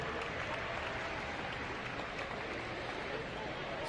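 Audience applause and cheering at the Vitruvian Games fitness competition, a dense, steady roar of clapping and crowd noise filling the whole stretch without pause.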